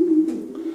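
A prized racing pigeon from a breeder's loft gives a single short, low coo, close and clear against a quiet background.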